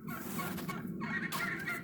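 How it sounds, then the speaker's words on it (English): Several farm turkeys gobble loudly and close together in a continuous agitated chorus with no talk. "The turkeys are going crazy today."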